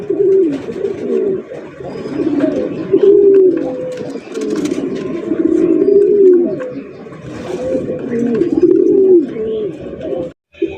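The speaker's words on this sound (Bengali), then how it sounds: "বিশাল বড় কবুতরের খামার ভাই।" Many pigeons coo continuously in overlapping, rolling calls at a large pigeon farm, close and loud, a busy chorus with scattered rustling throughout.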